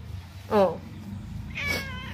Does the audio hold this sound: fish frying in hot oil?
no